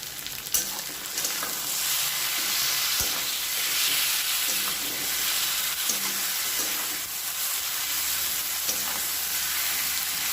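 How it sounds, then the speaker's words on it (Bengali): Marinated chicken and onion sizzling steadily in a pan over a low gas flame for chicken kosha, with occasional scraping stir strokes under a constant frying hiss. "পেঁয়াজের সাথে ম্যারিনেট করা চিকেনটা ভালো করে মিশিয়ে নেব। গ্যাসের ফ্লেমটা আস্তে করে দিয়ে এটাকে ভালো করে কষিয়ে নেব।"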